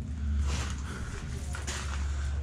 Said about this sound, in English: you can hear the cars going over us right now.